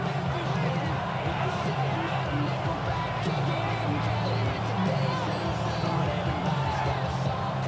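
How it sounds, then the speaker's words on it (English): A stadium crowd at an NFL football game between the Steelers and Bears roars steadily as a broad, dense wash of cheering and babble, while a commentator talks over it. "This crowd into it now as we get to third down."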